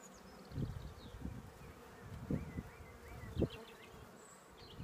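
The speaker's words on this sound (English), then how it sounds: "The actual difficulty of picking up bees when you're not used to it, or you haven't picked them up for a while" Honeybees buzzing close by as they are picked up by hand, a steady insect drone with wavering pitch and a few louder bursts and rustles of handling near the mic.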